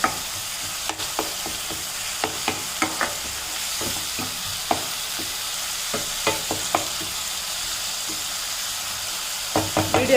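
Masala for fried chicken biryani sizzles and hisses steadily in a pan while a utensil stirs it, adding repeated short scraping clicks close by.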